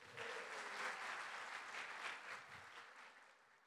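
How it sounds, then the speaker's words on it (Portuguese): Audience applause at a church sermon, a sustained burst of clapping from a crowd that holds steady and then gradually thins out and fades toward the end. "Uma salva de palmas para o Levi."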